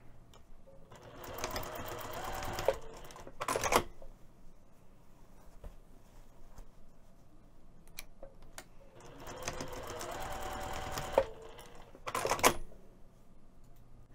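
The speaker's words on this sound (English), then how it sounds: "we're going to just stitch from the marking toward the end of the fabric" A sewing machine stitches pouch lining fabric in two bursts of rapid, even whirring, each ending in short sharp clicks, with quiet pauses between the runs; close and fairly soft, with no speech.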